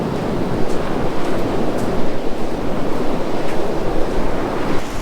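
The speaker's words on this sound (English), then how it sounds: "we've got the water running up through this little natural gully through here" Ocean surf surges up a narrow natural rock gully at sunrise on Barragga Bay, New South Wales, a steady washing roar with gusts of wind buffeting the microphone throughout.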